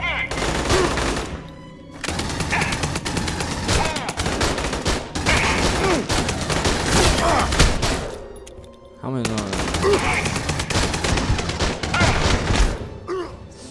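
Sustained automatic gunfire and bursts from the Aliens: Colonial Marines video game on PC, loud and dense for most of the stretch, with a short lull near the middle before the firing resumes.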